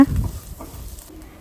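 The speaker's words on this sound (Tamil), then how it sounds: "வெங்காயம் நல்லா கண்ணாடி பதம் வர அளவுக்கு நல்லா வதக்கிடுங்க" Chopped onions sautéing in a pan for wheat flour adai dosa batter, cooked until glassy: a brief, soft sizzle with a light stirring scrape near the start, then fading quieter.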